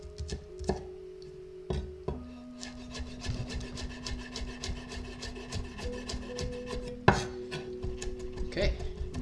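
Garlic being chopped on a wooden cutting board, a run of quick, close knife taps and scrapes, some louder strikes among them, with no talking.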